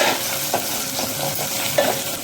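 Onion fried in a tempering for drumstick dal crackles softly in hot oil in a pan, with a few brief stirring scrapes close by and no voices.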